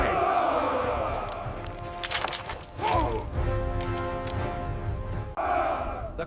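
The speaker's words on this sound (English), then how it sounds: "The crowd burned with rage" Angry crowd in a biblical-era scene yelling and roaring in a dense, sustained mass, with swelling cries and a sharp burst near the end, fairly loud throughout.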